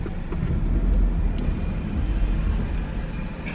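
A car, Tami's vehicle, arrives with a low engine rumble and tyre noise that swells slightly and then holds steady, fairly close and without talk, against faint background noise.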